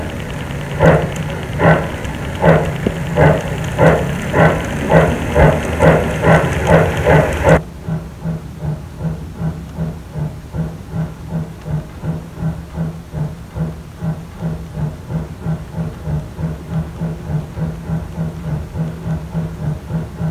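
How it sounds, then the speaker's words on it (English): Model train engine running with a rhythmic steam-style chuff and hiss, steady repeated puffs that sound louder for the first seven seconds, then continue more quietly and evenly, close and without talk. "And now it's time to run some trains."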